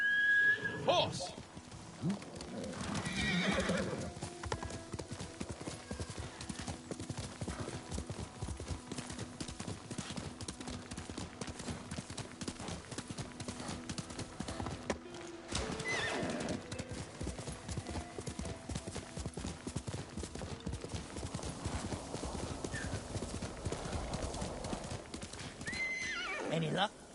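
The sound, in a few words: horse galloping and neighing, video game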